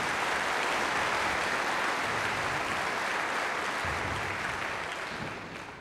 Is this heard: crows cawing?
no